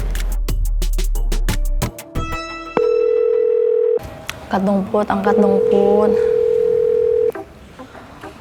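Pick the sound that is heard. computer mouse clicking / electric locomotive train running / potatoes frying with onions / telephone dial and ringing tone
telephone dial and ringing tone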